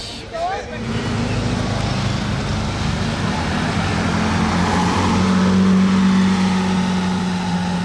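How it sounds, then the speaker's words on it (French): A yellow Lamborghini Aventador Roadster drives past on a street, its engine a steady loud drone that swells gradually as it nears, with a rising tone toward the end over surrounding traffic. "Le retour de l'Aventador Roadster jaune à présent."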